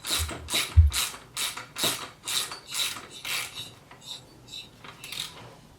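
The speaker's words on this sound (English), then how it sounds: "Then I'll use the socket and the ratchet to tighten things down." A ratchet with a 5/8 inch spark plug socket tightens a spark plug on a Ryobi 4-cycle trimmer, giving about a dozen close, rhythmic clicking strokes that slow and soften toward the end.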